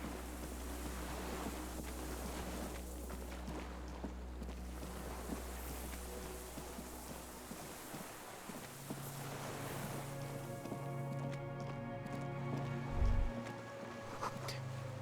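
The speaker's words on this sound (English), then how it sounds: "This is sounds of cargo ships. Signal horns echo the water." Cargo ship signal horns echo across open water in the Disco Elysium game, sustained low tonal blasts emerging midway over a steady wash of surf-like ambience, fairly faint and distant with no talking.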